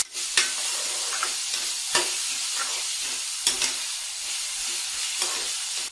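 Small potato pieces sautéing in a pan for batata poha: a steady, close sizzle broken every second or so by the sharp scrape of a spoon stirring through the pan.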